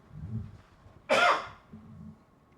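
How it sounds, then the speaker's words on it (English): A single sharp, loud cough close to the microphone, preceded and followed by quiet low murmurs. "Excuse the cough, still getting over being a little sick."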